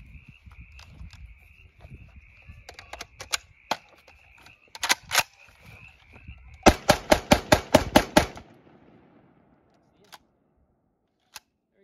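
Blank rounds fired through a BAR rifle fitted with a short blank magazine spacer, with a rapid burst of about eight loud sharp reports after scattered single clicks and handling noises, then a few faint later clicks.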